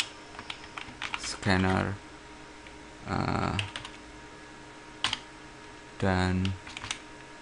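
Java code is typed on a computer keyboard in quick runs of clicks, close and clear, between stretches of someone talking.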